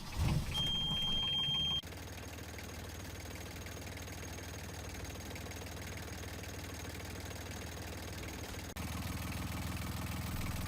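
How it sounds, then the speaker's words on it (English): A Yanmar 3YM30 marine diesel engine in a 2008 Ranger Tug R21-EC idles steadily with a low, even rumble, its tone shifting slightly partway through as it runs on continuously. "start the motor for about 10 minutes and let the oil run through the engine"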